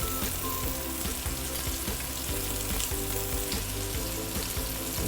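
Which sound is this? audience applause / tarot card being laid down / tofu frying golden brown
tofu frying golden brown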